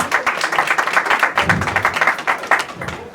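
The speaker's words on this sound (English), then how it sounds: "A round of applause for Jessica." Audience applause fills the room at a United Nations gathering as a panelist is welcomed, a steady dense clapping that stays even and close for the full stretch.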